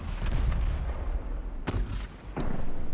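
Warship naval guns firing in the game Ultimate Admiral Dreadnoughts: a couple of short, muffled booms rise over a steady low rumble of background noise.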